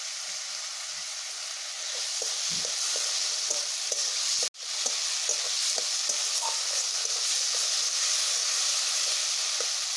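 Spice paste of turmeric, salt and ginger paste frying in oil for a loitta fish curry, giving a continuous hissing sizzle with soft scraping stirs and one brief dropout midway.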